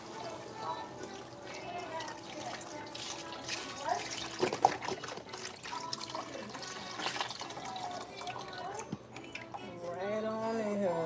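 Liquid poured into a cooking pot while making jambalaya, a running, splashing pour with faint drips, close and steady, under some background noise.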